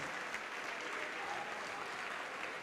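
A church congregation applauding during a service, continuous and even, heard somewhat distant and soft.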